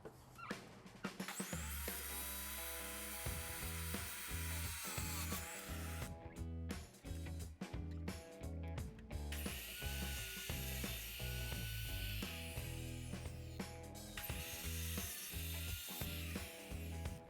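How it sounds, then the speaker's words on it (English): A carbide saw blade cuts slowly through aluminum in a loud, harsh whine with rhythmic repeated grinding bursts and brief pauses, continuous mechanical noise throughout with no talk. "Any carbide blade can cut aluminum. You just have to go slow."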